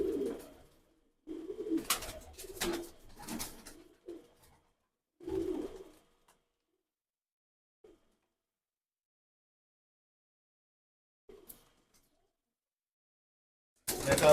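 Breeder pigeons coo in a loft: a cluster of soft, close, throaty coos at the start, then scattered faint calls separated by long silences, and another coo at the very end.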